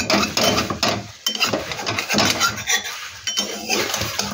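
A metal lid comes off a kadai of sweet fried fritters with clattering, clinking pan and utensil sounds, loud and close over a few seconds with no speech.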